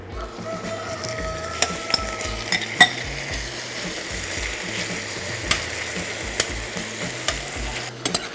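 Beef sizzles in hot olive oil in a skillet, a steady close frying crackle with intermittent clicks and scrapes of a utensil moving the meat around.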